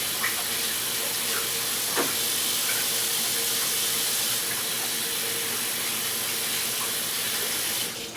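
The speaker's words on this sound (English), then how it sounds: "And then I guess I'll wash my hands." Steady running water from a tap while hands are washed in a kitchen sink, a continuous broad hiss filling the whole stretch with a few faint clinks, close and moderately loud, no talking.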